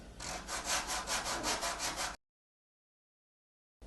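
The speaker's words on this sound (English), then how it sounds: "This video is sponsored by sanding. Lots and lots of sanding." A rhythmic back-and-forth rasping of sanding strokes on EVA foam, close and steady, stops abruptly into silence, with a brief return at the very end.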